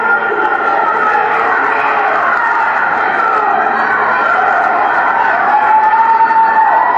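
An agitated wrestling crowd roars and jeers in a large arena, a dense sustained wall of distant voices with steady loudness and no clear breaks.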